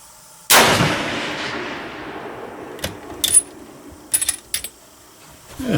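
A deer rifle fired at a target range 250 yards out gives one sharp, loud report that rings and decays over a couple of seconds. Several small metallic clicks and clinks follow, likely handling of the rifle.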